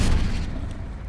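A Confringo fire spell bursts in Hogwarts Legacy, a single deep boom that hits loud at once and then rumbles away over about a second.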